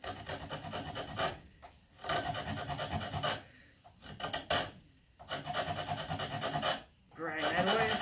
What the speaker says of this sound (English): take this side of the bow and then just grind it to the finish point